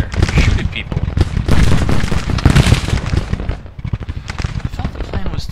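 Troops in a Shiloh battle game fire dense, overlapping volleys of musketry, a crackling roll of shots with louder bursts, while a voice speaks over the gunfire.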